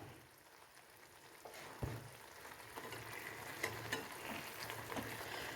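An egg fries bullseye style in a pan, a soft steady sizzle with small crackles and one sharp clink early on, fairly quiet and close.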